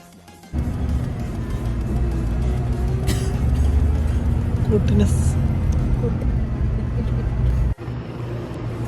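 A bus travelling from Vyttila to Kollam, heard from inside as a steady, loud rumble of engine and road noise that runs almost unbroken and ends in a brief dip near the close.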